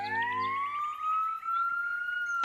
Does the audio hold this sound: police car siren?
yes